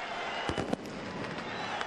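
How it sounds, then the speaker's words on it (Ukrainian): Fireworks go off at a football stadium, with a few sharp distant pops and crackles over a constant crowd murmur. "Феєрверк запустили."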